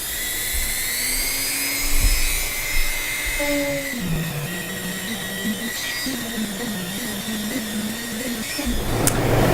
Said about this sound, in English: Now we're going to go ahead and Dremel both our patch and our tube, because it's a Hypalon tube.